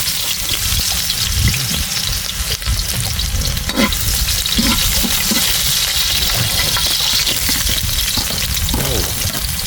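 Fish fries in hot oil for adobo with a loud, continuous crackling sizzle, close by, punctuated by occasional stirring and spattering pops across nearly ten seconds.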